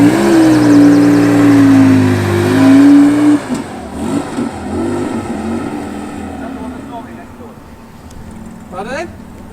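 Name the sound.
Porsche car engine revving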